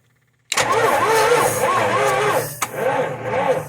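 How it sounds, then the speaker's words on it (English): A 1993 Chevrolet K3500 diesel engine cranks slowly and laboriously on weak batteries, the starter grinding in rhythmic, uneven turns that pause briefly and resume without the engine catching, loud and close. "those batteries are dead. But at least the motor's not seized."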